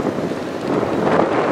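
Strong wind buffets the microphone at the Sarnia rail yard, a steady, loud broadband roar that swells slightly toward the end, with no talking.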